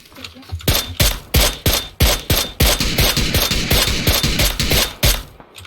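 Rapid bursts of gunfire in the video game PUBG: Battlegrounds, sharp repeated shots in quick volleys, loud and close, with a brief pause between strings of fire.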